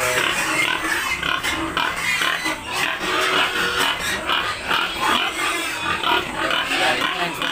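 A Large White pig on a backyard farm grunts repeatedly up close, its rough, snorting grunts coming in an uneven rhythm throughout.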